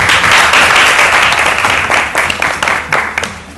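Loud, dense audience applause fills the room with steady clapping from start to finish, easing slightly toward the end.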